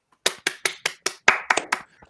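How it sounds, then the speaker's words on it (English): Sharp, separate claps ring out in a quick rhythm, about nine hits with short gaps between, close and dry, trailing off at the end. "Can I get a round of applause?"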